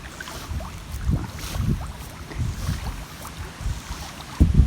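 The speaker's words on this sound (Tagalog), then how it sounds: "Sobrang lakas ng hangin dito mga kabukid." Strong wind gusts over farmland buffet the microphone in heavy, uneven rushes, loud and close, with no talking.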